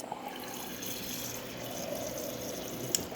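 Water pours steadily from the dispenser of a Samsung Smart Hub refrigerator, a continuous close stream with no talking.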